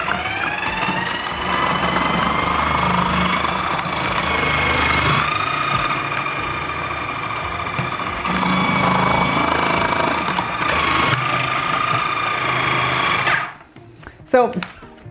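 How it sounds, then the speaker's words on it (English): A food processor with a grating attachment shreds carrots for a classic carrot cake, a loud, steady motor whine with slight shifts in pitch as pieces feed through, then stopping abruptly with a few clatters at the end. "I'm gonna use my food processor with the attachment that's gonna grate them"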